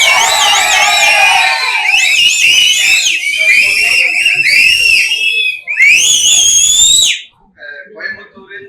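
A crowd of fans at a fan meet in Madurai blasts loud, shrill whistles, with rising and wavering tones repeated over several seconds amid cheering and shouting, then cutting off sharply near the end.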